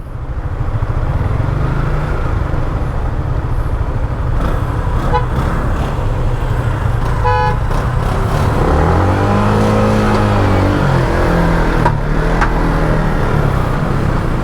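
A white car passes close on a hot street, its engine rising and falling over a loud steady road rumble, with a short horn toot partway through and no voices.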